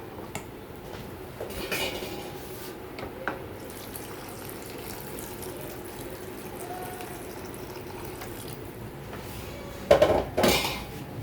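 A spoon stirs a potato and pea curry in a pan, giving a few sparse metallic clinks and scrapes, quiet at first, then a brief louder clatter near the end.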